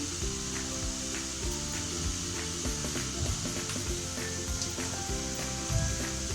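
A sweet sugar chutney with a little food colouring cooks in a pan while a spoon stirs it, giving a steady close sizzle with soft scraping and clinks throughout.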